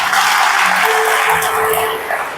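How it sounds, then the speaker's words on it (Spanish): Loud, dense audience applause fills the scene, a steady wash of clapping with a few voices mixed in. "Dale un aplauso."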